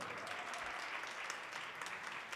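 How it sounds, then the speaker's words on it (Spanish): Steady applause from an audience at a high school award ceremony, dense continuous clapping throughout with no voices. "Un fuerte aplauso para él."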